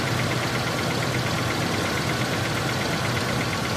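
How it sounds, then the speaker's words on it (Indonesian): A car engine idles steadily after an engine oil flush, a continuous mid-pitched rumble with faint ticking texture, close and constant throughout with no voices. "Kemudian kita hidupkan mesin lagi sekitar 5-10 menit agar oli tersirkulasi"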